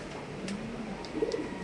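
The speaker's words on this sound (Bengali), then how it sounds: "আমরা কবুতরের ডাকটা দেখা দিই" Domestic pigeons coo softly in a loft among many birds, a low burbling call rising near the end over a steady background murmur of the flock.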